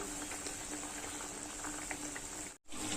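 Tangra fish curry gravy bubbles steadily in a cooking pot, a continuous close simmering boil with a brief cut near the end.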